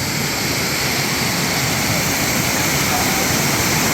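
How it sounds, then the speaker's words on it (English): Kpatawee waterfall in Liberia roars as a steady, dense broadband rush of falling water, loud and close, with no break or change across the moment. "This is the waterfall."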